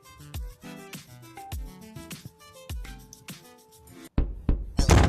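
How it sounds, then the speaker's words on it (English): Several sharp knocks land in a loose rhythm against a tonal music bed, then a louder burst of thuds and clatter near the end. "I think somebody was knocking at the door."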